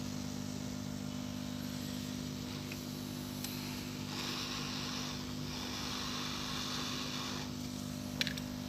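Hot air rework station blowing steadily while an IC is desoldered from an active speaker board, a constant airy hiss over a low hum, with faint clicks near the end.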